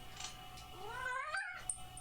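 A cat lets out a single drawn-out, rising meow close by, fairly loud against a quiet room with a soft hum, followed by a small click.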